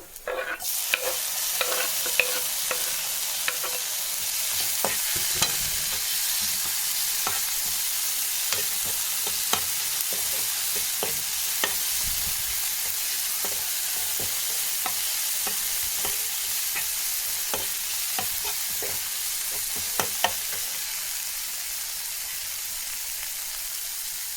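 Ginger garlic paste frying in a pan for dal curry, a dense steady sizzle with frequent light spoon taps and scrapes against the pan throughout, with no one talking.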